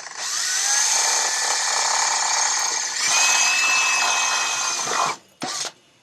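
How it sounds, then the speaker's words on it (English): A 1/8 drill bit bores a hole into the rear main seal of a 1991 Dodge Ram D250: a loud, steady, close-up whining drill run for about five seconds, then a brief stop and one short final burst. "And I just drilled a hole in the seal."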